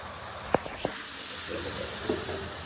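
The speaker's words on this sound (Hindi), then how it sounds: "आज दूध बड़ी जल्दी उबल गया चाय से पहले" Milk heating on a stove sputters with a steady low hiss, punctuated by two sharp pops early on and faint bubbling crackles toward the end, close by and fairly quiet.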